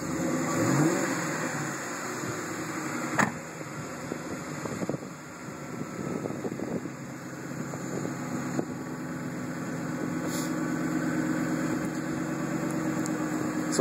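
2010 Ford Mustang GT V8 starting and revving outdoors, a steady engine drone with a few rev swells, moderately loud and steady throughout, alone without talk.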